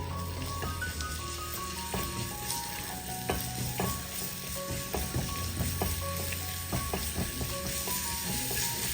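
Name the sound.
crushed ginger and garlic frying in hot oil, stirred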